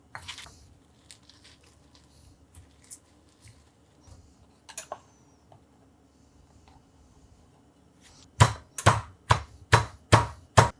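Fresh herbs for chimichurri sauce being ground together by hand, heard as a quiet stretch of faint rustling followed by five or six loud, sharp, evenly spaced strikes near the end.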